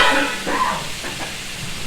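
Pointed gourd goes into a hot frying pan and sizzles with a steady, soft frying hiss, plus a few light stirring scrapes. Close and brief.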